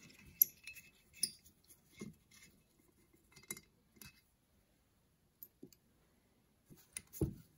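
Small metallic clicks and light taps from mixture screws being removed from a Motorcraft 2150 carburetor on a 1979 Ford F250, sparse and close in a quiet workspace, ending with a slightly louder clunk.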